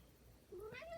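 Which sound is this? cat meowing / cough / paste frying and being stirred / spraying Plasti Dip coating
cat meowing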